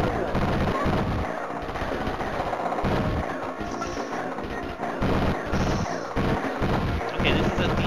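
A super bomb weapon fires in a DOS shooter video game, setting off a dense run of booming blasts and crackling explosions, loud and continuous. A voice talks over parts of it.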